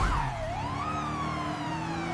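A toy blue police car siren wails in a continuous rising and falling electronic tone, loud and close, alone without talk.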